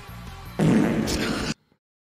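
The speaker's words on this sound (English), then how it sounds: "I don't laugh at farts anymore" A loud, close, drawn-out fart lasts about a second, a low buzzy rasp over steady background hum, then stops abruptly into silence.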